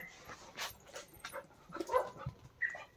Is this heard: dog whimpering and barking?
yes